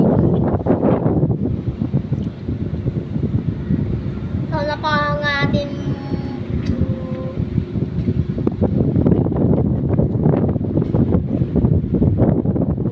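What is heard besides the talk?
strong wind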